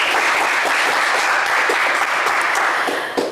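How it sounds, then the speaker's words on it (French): A studio audience claps loudly and continuously for a few seconds during a television quiz show, dense applause tapering slightly at the end. "Je pense que ça s'applaudit très fort."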